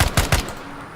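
Three rapid AK rifle shots crack out close and loud in the tactical shooter game Ground Branch, evenly spaced, followed by a short fading echo and no talk.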